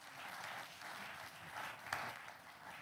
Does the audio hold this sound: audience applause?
yes